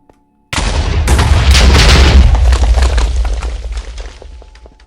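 A Minecraft explosion detonates with a sudden loud blast that rumbles and crackles, then slowly decays over several seconds, with no talk over it.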